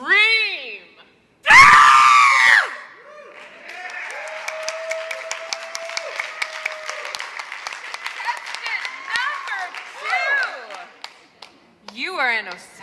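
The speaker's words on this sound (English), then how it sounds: "You scream." A loud, shrill scream bursts out, then gives way to a long spell of crowd noise with clapping and scattered voices, and more cries rise toward the end.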